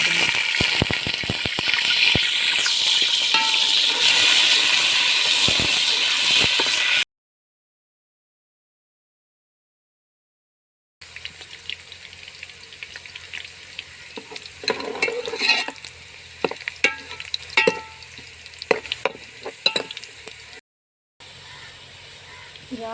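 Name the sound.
onions frying and being stirred in mustard oil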